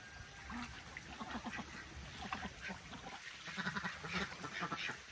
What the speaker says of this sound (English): Happy little ducks having a swim.